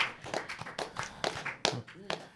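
A few sharp, close hand claps given for a guest during a New Year's Eve 2018 show conversation, irregular and brief, interleaved with ongoing talk.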